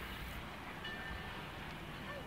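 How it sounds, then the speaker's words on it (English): A train carrying a refrigerated boxcar rolls steadily past, a faint continuous rumble of wheels and rail with no distinct clacks or horn, low and distant throughout. "A refrigerated boxcar on a train headed north."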